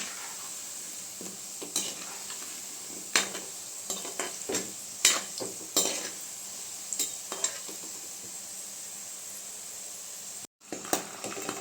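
Salted seedai dough balls deep-frying in oil on a low flame, with a steady close sizzle broken by repeated stirring scrapes and clinks of a utensil against the pan, no talking.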